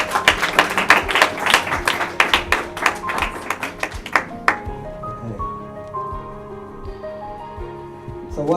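An audience claps for a lecture speaker, loose rhythmic clapping for about four seconds that fades out, followed by sustained resonant tones ringing on alone.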